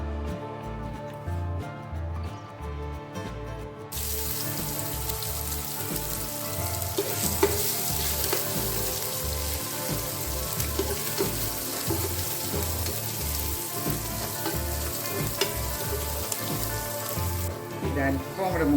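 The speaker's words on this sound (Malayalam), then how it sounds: "നമ്മുടെ ആ വെളുത്തുള്ളി കറിവേപ്പില എല്ലാം ഒന്ന് വറുത്ത് കോരിയെടുക്കണം." Garlic and curry leaves frying in coconut oil, a dense, continuous sizzle like rain on a surface, with a steady rhythmic thumping beat underneath.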